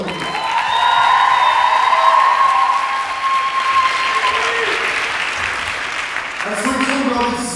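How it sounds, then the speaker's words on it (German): An audience at a speaker event gives sustained loud applause with some cheering, a steady dense wash of clapping that tapers slightly near the end. "einen riesengroßen Applaus nochmal"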